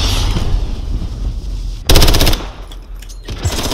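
Rapid gunfire in Modern Warfare, a short loud automatic burst cutting through steady game ambience, followed a moment later by a fainter single shot.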